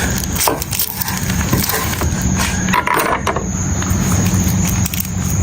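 A knife slices the end off a whole onion still in its skin, giving a loud, close, continuous crunching and scraping on a cutting board with a few sharper snaps and no voices.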